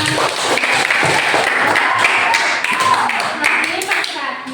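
A class of pupils applauding loudly and steadily in the classroom, with quick overlapping claps and a few heavier taps and thuds, thinning slightly toward the end.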